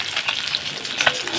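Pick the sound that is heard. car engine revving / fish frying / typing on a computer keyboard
fish frying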